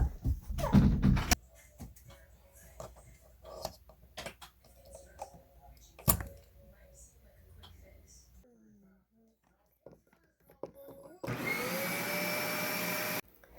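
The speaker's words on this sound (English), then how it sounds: "So I was actually struggling for a little bit with this vacuum." A newly bought vacuum cleaner runs on a bedroom carpet, its steady whine starting loud and close near the end after stretches of talk, shuffling and household clatter.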